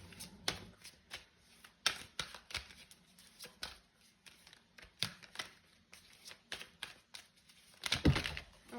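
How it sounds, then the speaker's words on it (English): Tarot cards are shuffled and pulled close up in quick, papery riffles and flicks, a steady run of soft snaps that ends in a louder flurry near the close, with no talk. "We're gonna pull some more cards."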